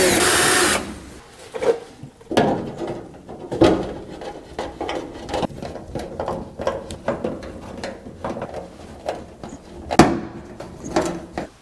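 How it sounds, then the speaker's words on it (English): Screws run by hand or driver into the threaded holes of a car front spoiler lip, a series of short sharp clicks and ratcheting taps spread irregularly over several seconds, close and fairly loud, with no talk. "I'm just gonna go ahead and just run these screws in here just to make sure the threads fit."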